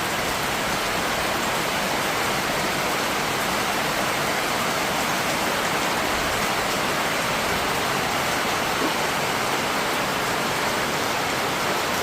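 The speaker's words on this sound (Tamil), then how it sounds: "இப்போ மழை, சரியான மழை பெய்யுது." Heavy rain pours down in Thiruvananthapuram, a dense, unbroken roar of water striking surfaces that stays loud and steady for the whole stretch with no voices.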